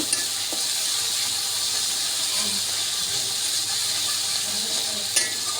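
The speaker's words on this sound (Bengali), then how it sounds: "দিয়ে দিচ্ছি লবণ স্বাদ মতো, লঙ্কা গুঁড়ো, দিয়ে ভালোভাবে কষিয়ে নেব।" Salt and chili powder being sautéed in a pan for egg korma make a steady hissing sizzle, with a few soft stirring clinks and a brief louder scrape near the end, with no one talking.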